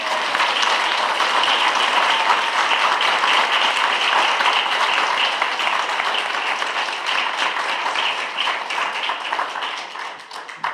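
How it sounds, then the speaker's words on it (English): An audience at a congressional candidates forum applauds steadily, dense clapping holding for about ten seconds before thinning out near the end. "How about applause?"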